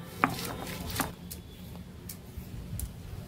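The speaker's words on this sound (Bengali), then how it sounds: "এখন আমি রসুনটা বেটে নেব" Garlic crushed on a shil-nora grinding stone, with a couple of sharp stone knocks early on followed by faint, irregular scraping strokes, quiet and close with no talking.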